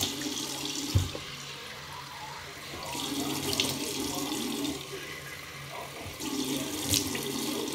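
Tap water runs steadily into a sink, splashing and gurgling nearby, with the flow shifting in intensity a few times.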